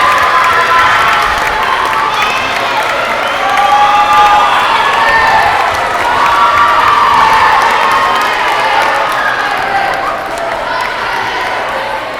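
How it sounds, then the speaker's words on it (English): Middle school students at a Black History Month assembly erupt in loud cheering, shouting and clapping for their student council, a continuous roaring crowd of young voices filling the hall. "give a round of applause, a big hand for our Student Council government"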